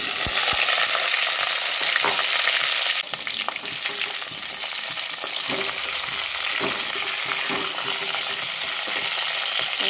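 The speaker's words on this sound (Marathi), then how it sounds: "आता मी यात जिरे घालून घेते आणि हे सगळे वांगे घालून घेते यात" Eggplants and cumin seeds fry in hot oil with spluttered mustard seeds, a loud continuous sizzle punctuated by sharp crackles and the occasional scrape of a spoon.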